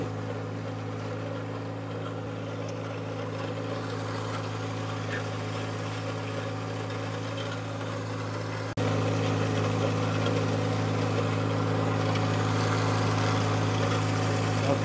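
A compact tractor's diesel engine runs at a steady idle-like drone while reversing down a driveway with a land leveler, close and constant, briefly stepping up in loudness partway through.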